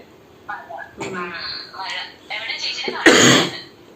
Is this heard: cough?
yes